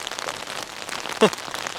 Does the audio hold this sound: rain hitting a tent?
yes